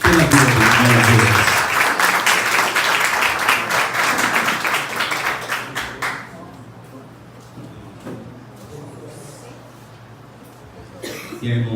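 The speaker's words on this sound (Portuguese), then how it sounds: "um aplauso gostoso pela vida dele" A church congregation applauds warmly for several seconds, the clapping fading out, then a few scattered claps, coughs and room noise follow before a brief swell.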